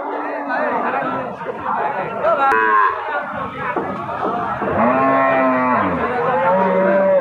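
Cows, including Holstein Friesian and Jersey cows sold with their calves, moo loudly at the Chandaikona cattle market amid steady crowd chatter. Several drawn-out moos rise over the crowd, with people talking throughout.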